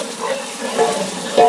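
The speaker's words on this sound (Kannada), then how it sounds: "ಇವಾಗ 1 kg ಈರುಳ್ಳಿ ರುಬ್ಕೊಂಡಿದ್ದೀನಿ, ಅದನ್ನು ಹಾಕ್ಬಿಡೋಣ." Ground onion paste, a full kilogram, hits hot oil for a banana-leaf biryani, giving a steady broad sizzle with a brief louder burst near the end, close and continuous, no talking.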